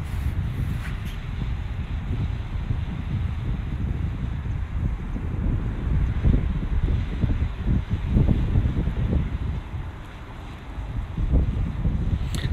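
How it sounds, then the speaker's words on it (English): Gusty wind buffets the microphone outdoors near a DJI Mavic Pro drone, a steady low rumble that swells and dips across the clip with no voices. "It's a little windy out"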